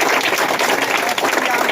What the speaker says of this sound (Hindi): गुरु जी के लिए ताली बजनी चाहिए।